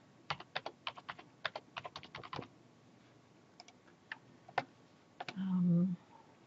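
Dates being typed on a computer keyboard in a PowerSchool report screen: quick bursts of close key clicks, a pause with a few scattered taps, then a brief low hum near the end.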